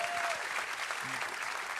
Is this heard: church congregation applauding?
yes